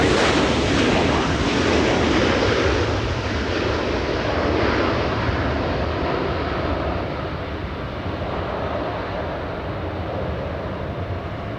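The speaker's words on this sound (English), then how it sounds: "capture the Dreamliner taking off and lifting off" Boeing 787 Dreamliner taking off at LAX, a loud broad jet engine roar sustained throughout, easing slightly in loudness as the aircraft climbs away.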